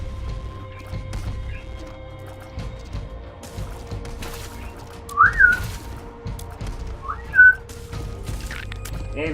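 A person whistles short bird-call imitations, two clear chirping phrases rising and falling, heard over quiet video game background sounds in Binding of Isaac: Afterbirth+.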